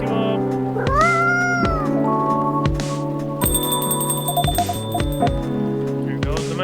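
Cat meowing in the video game Coffee Talk, a few short rising meows over soft game music and chiming tones, with a voice talking at moments.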